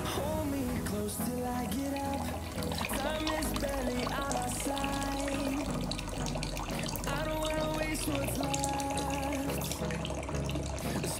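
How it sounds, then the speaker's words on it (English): A smart rice washer's water pump runs steadily while filling the basin with water, a continuous pouring, trickling flow with a mechanical tonal hum throughout, close and moderately loud, with no talking. "the water pump will turn on and pump water to the basin"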